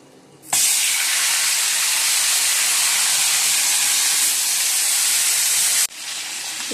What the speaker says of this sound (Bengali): আর এই যে তেলটা গরম হয়ে গেছে, এবার মাছটা দিয়ে দিচ্ছি।